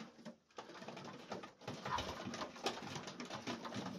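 Young Old Polish Carrier pigeons in a loft coo softly and continuously, with scattered rustles and light patter of movement, no voices.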